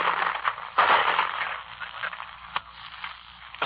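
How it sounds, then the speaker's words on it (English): Bullets and rifle fire at a WW2 frontline, heard in an old crackly recording as a dense, distant rattle of shots with a few sharper cracks standing out. "Those, my friends, are bullets."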